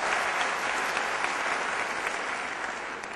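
An audience at a motivational talk breaks into sustained, dense applause, an even wash of clapping filling the hall.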